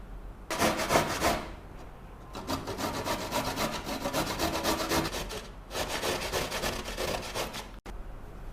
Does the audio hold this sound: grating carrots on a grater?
yes